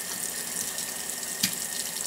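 Warm tap water runs steadily over a bamboo mat during wet felting, a constant close hiss and splash with one brief louder splash partway through.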